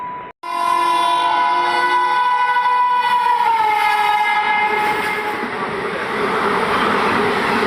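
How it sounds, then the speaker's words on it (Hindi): The Hool Express runs past close by on a railway line between Howrah and Siuri, sounding a long, loud horn with several steady tones that then gives way to the continuous rumble and clatter of the passing coaches. "ये देख सकते हैं हूल एक्सप्रेस जो हावड़ा से सिवरी के बीच में चलती है।"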